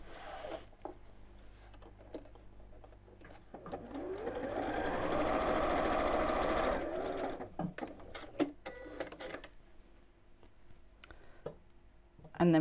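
A sewing machine stitches straight across fabric in a steady whirring run of several seconds, close and clear, with clicks and handling noises before and after.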